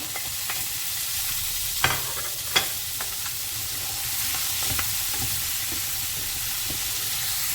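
Bitter gourd stir-fried with pork adobo in a hot pan: a constant loud sizzle with occasional sharp clacks of the utensil against the pan while it is stirred, with no talking.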